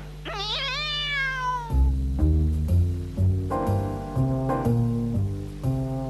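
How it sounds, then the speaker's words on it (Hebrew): A cat gives one clear, rising-then-falling meow, followed by a bouncy musical melody that plays on without any speech. "החתולה! מהר, מהר, מהר!"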